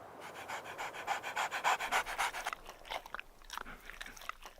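A dog panting rapidly and loudly at close range in a steady rhythmic burst that then breaks into looser, irregular breaths and mouth sounds, with no talking.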